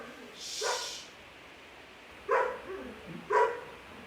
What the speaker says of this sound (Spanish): mis perros están ladrando y las voy a callar